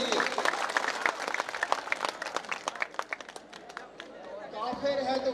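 Audience applause for the artists at a Talagang Arts Society Independence Day program on 14 August, scattered distinct hand claps thinning out midway before a voice begins speaking over a hall.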